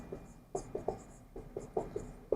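Chalk or marker scratching and tapping on a classroom board in quick, irregular strokes, faint and close, with no voice.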